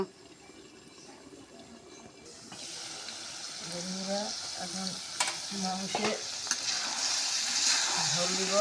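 Goat mutton being stir-fried for a thin red curry, with a pan sizzle that swells after a quiet start, plus scraping stirs, a few clinks and faint background noise.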